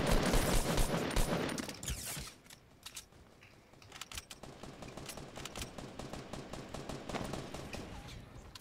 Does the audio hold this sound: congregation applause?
no